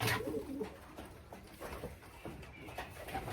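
A small tiger grizzle racing pigeon hen coos softly in a few low, throaty pulses over a faint background hum, with no talking.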